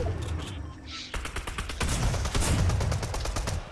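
Rapid bursts of automatic gunfire in the Fortnite video game, loud and dense, rattling continuously across the clip with shots clustering after a brief lull near the start.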